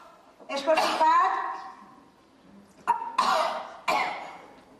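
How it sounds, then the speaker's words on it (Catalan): A few harsh coughs from someone with a cold come in short bursts, mixed with voiced, throaty sounds, with a pause between the groups. "Mala tos, és constipat?"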